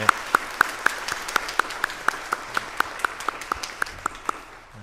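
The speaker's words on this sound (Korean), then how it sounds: "박수 한번 해서 격려했으면 좋겠습니다" Church congregation claps for the choir in an even, rhythmic beat, crisp distinct claps repeating roughly four times a second over a soft room background.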